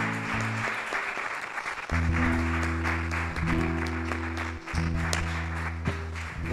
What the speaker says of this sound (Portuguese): Vamos aplaudir ao Senhor pela sua palavra.